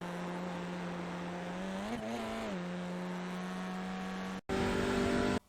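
An Audi RS3 racing in iRacing at Lime Rock Park, its engine holding a steady loud drone with a brief wavering rise, then a sharp cut for a gear change before the engine note returns strongly.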